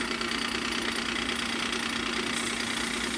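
A powered buffer runs continuously, a steady loud motorized whirr and hum as a faux pattern-welded blade is buffed, close and unbroken throughout.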